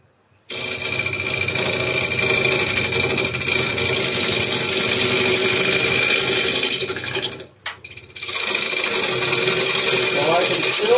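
A wood lathe spins continuously as a gouge cuts into a square-edged wood blank, a steady loud whirring scrape with a brief dip near the end as the tool lifts off, then resumes.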